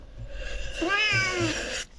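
A cat meows once in a long, drawn-out rising and falling cry, close by, over a low background hum.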